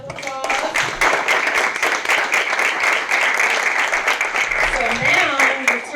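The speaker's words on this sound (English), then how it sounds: "Let's give them a round of applause." An audience at a franchising business fireside chat gives a sustained round of applause, dense and loud clapping that fills the room throughout, with a voice briefly audible near the end.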